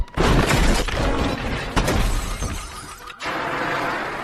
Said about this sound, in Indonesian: ia pun dengan cepat memecahkan lapisan esnya